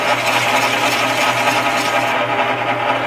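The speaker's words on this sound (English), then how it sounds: "On my drill press carbide cutter, it's kind of grabby" A loud, steady whirring and grinding of a carbide cutter in a drill press trimming a brass pen tube in wood, working continuously at close range, with a constant mechanical hum throughout.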